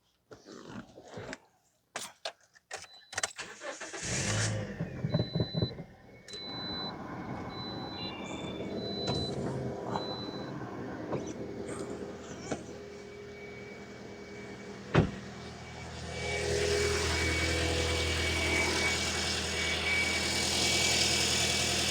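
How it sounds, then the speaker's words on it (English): A 2010 Toyota Corolla 1.8 after a drive belt replacement: clicks and key chimes, then the engine cranks and settles into a steady idle that grows fuller, heard up close with a few knocks along the way. "And so now I'm going to start the vehicle."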